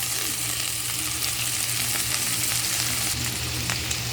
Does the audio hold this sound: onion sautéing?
yes